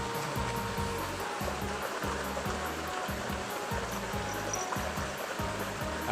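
Chanta Then waterfall roars as a constant, dense wash of falling water, loud and unbroken, with a faint rhythmic low thumping running beneath it throughout.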